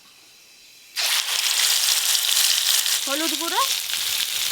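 Spice paste dropped into hot mustard oil in a kadai bursts into a loud, continuous sizzle and crackle, close up, while a voice speaks briefly over it.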